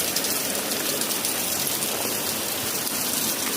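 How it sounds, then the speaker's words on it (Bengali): Heavy rain pours down steadily on a surface, a dense, loud, continuous hiss of drops with no letup and no voices. "বৃষ্টিটা যেরকম ঝেপে বৃষ্টি হচ্ছে"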